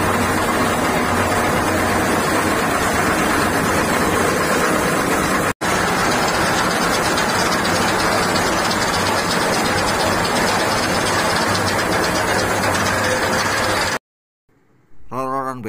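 A Kusters CPB textile dyeing machine in an industrial mill runs with a loud, steady mechanical roar and a fine ratcheting clatter for about fourteen seconds, cutting off abruptly, followed by a brief quieter tail.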